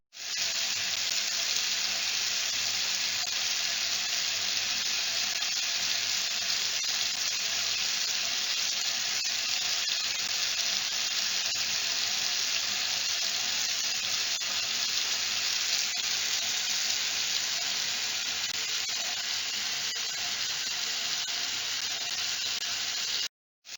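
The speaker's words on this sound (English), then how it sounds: "Thoroughly rinse the patient's hair and we're ready to get started." Steady running water rinsing a patient's hair in the Surgery Squad hair transplant surgery game, a continuous loud spray-like hiss that holds even for about 23 seconds with no talk before cutting off abruptly.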